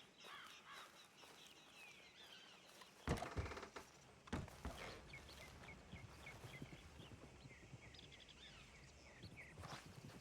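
Horse hooves clip-clop in the WildRP game world, with crows cawing throughout and a couple of sharper thuds near the middle, over a low steady outdoor ambience.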